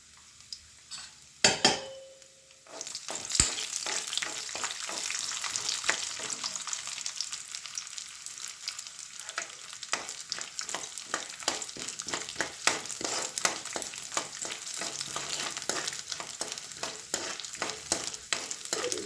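Chana dal and urad dal fry in hot oil for a pulihara tempering, a close, steady crackling sizzle with scattered pops and spoon stirring against the pan after a few early clanks.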